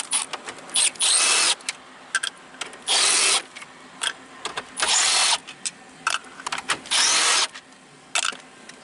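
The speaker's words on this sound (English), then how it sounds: "you're going to want to take 4 7mm bolts out to get the radio out" A power drill or driver removes 7mm bolts holding a GM factory car radio, running in about five bursts of high whirring of roughly half a second each, separated by short clicks and handling noises, close and loud.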